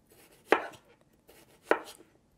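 A knife slices through cucumber onto a cutting board in two crisp, close chops about a second apart, each followed by a faint scrape.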